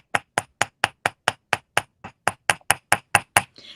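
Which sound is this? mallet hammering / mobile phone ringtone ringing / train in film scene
mallet hammering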